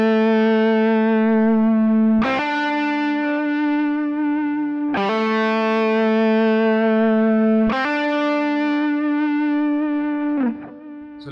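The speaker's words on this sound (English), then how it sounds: "hammering onto that next note as soon as we pick the string" Electric guitar lead lines use grace-note hammer-ons, each string picked and hammered straight onto the next note; three bright, effect-laden phrases ring out alone, each sustaining several seconds before the next attack.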